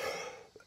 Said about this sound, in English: I've had a cough since Christmas though, really.